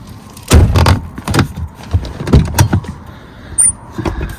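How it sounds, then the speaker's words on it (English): A Ford Crown Victoria rear door is opened with its inside handle, producing a series of loud close clunks, latch clicks and metallic rattles in quick uneven bursts. "you need to like press down on the door handle for it to open"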